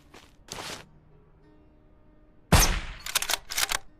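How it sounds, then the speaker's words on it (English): Suppressed gunfire in the zombie survival game SurrounDead, on Nightmare difficulty: two short muffled shots about two seconds apart, then a louder cluster of quick shots with some clattering, close and with no talk over them. "Okay, so I want to test out the suppressor here."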